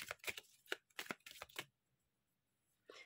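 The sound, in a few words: shuffling cards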